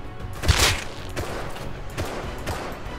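Thompson submachine gun bursts in the Rust survival game, fired by another player: a loud, sharp volley near the half-second mark, followed by several fainter, more distant shots scattered across the next few seconds.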